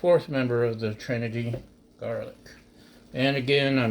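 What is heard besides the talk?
No everyday noises stand out.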